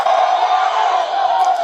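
A large protest crowd of students and young people in Mumbai roars and shouts slogans in one dense, loud, continuous wall of voices that sounds close and fills the whole stretch.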